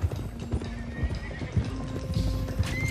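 A horse in Red Dead Redemption 2 clops along with steady rhythmic hoofbeats and whinnies over the running hooves, close and clear.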